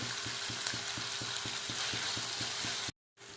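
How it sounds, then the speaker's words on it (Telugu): Onions fry in a pan with a constant sizzling hiss, overlaid by a regular mechanical ticking at a quick, even pace, until the sound cuts out abruptly near the end. "ఈ ఆనియన్స్ అయితే సగం వేగి"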